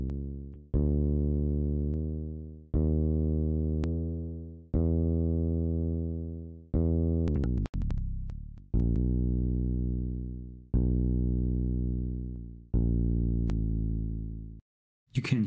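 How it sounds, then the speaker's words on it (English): A single bass note looped in Cubase repeats about eight times, each strike sustaining and fading before the next, with a brief glitchy burst near the middle and a short gap at the end. "I have a single bass note here,"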